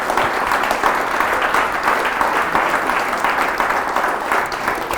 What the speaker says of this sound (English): can we please have a final round of thanks, round of applause for Professor Harry Charrington.